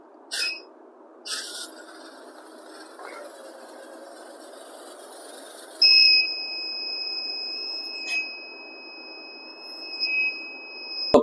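A thin, high electronic alarm tone from an accident-avoiding bus model starts midway and holds steadily, with a few short chirps and clicks before it in a quiet setting.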